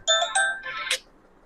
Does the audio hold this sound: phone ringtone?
yes